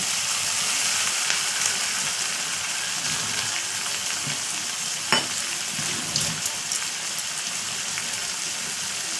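Continuous hissing sizzle of onion, tomato and mustard-poppy seed paste frying in a pan, with a few scraping stirs and small pops, no talking.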